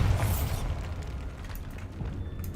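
A Bombarda blasting spell explodes in Hogwarts Legacy, a loud rumbling burst at the start that decays into a sustained low roar and debris noise.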